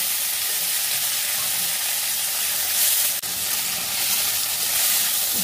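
Chopped tomatoes and green chillies frying in a pan with bay leaf while being stirred, a loud, continuous close-up sizzle and hiss with the stirring blended into the sound.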